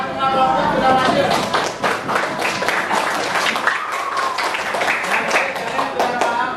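Classroom applause for all the student groups, a burst of many hands clapping fairly close, with students' chatter mixed in throughout.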